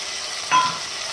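A ground paste of ginger, green chilli and cumin hits a hot pan, giving a brief burst of sizzle over a steady low frying hiss, close and short.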